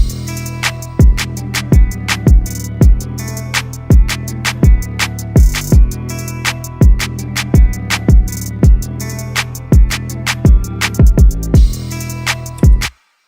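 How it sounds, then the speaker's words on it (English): A loud hip-hop beat with punchy kicks and deep sliding 808 bass, crisp hi-hats and snare hits in a steady looping groove. "I'll just play this beat."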